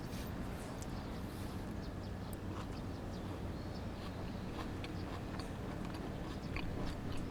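Someone bites into crispy fried sea trout topped with paprika, giving close, quiet crunching and chewing over a steady background hiss.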